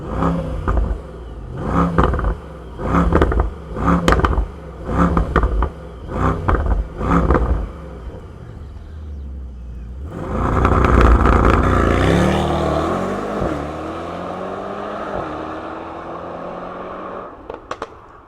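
A 2025 Mercedes-AMG S63 E-Performance sedan rumbles through a string of short bursts, then fires up into a loud, sustained engine roar that rises and falls as it pulls away, ending in a quieter hum with a few sharp clicks.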